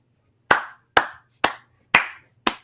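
One person clapping alone, five sharp separate claps spaced about half a second apart in a quiet room.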